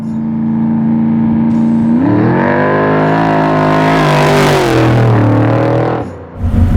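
Loud, close engine roar from a 1,000 hp naturally aspirated 605ci HEMI big block Plymouth Roadrunner: it idles, then revs hard and rises in pitch as it accelerates before dropping off near the end.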